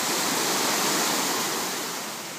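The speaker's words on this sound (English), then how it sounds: "it's coming out of National Park Rainforest and flows this way over the wall which I'm standing on" Rainforest river water pouring over a wall in a national park, a loud, steady broadband rush close by that fades slightly toward the end, with no voices.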